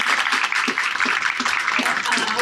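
An audience gives sustained applause for Kelly, one of the event's organizers, with dense, steady clapping from many hands filling the whole stretch.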